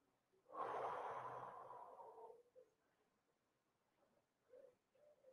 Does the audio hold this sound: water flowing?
no